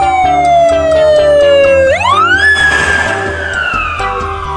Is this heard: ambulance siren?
yes